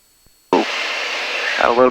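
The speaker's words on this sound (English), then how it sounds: "Final for runway 7. We'll do a low pass." A Mooney M20R piston aircraft on a low pass flyby: after a half second of silence, a loud, steady broadband engine roar starts abruptly and holds, with a voice briefly heard near the end.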